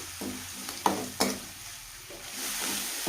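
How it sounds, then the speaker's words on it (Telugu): Ginger garlic paste frying in hot oil with curry leaves gives a steady, soft sizzle and hiss, broken by a couple of sharp scraping stirs of a spoon in the pan, with no one talking. "అల్లం వెల్లుల్లి పేస్ట్ దీన్ని ఆయిల్లో ఫ్రై చేసుకోవాలి పచ్చివాసన పోయే వరకు"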